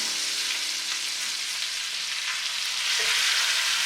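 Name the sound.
steak sizzling in a pan after being flipped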